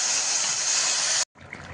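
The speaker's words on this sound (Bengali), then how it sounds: "হালকা করে একটু জল দিয়ে দেবো" Water poured into a banana and potato curry in a pan, a steady rushing hiss that cuts off abruptly, followed by quieter simmering.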